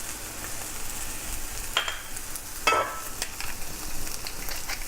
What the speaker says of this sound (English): Now the onions have been sauteing for a good 2 minutes